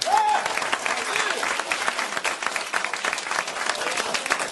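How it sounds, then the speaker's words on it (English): A crowd at a comedy-style talk gives a round of applause, dense clapping with a brief whoop at the start, staying loud and steady with crowd noise throughout. "I need you to help me by a round of applause"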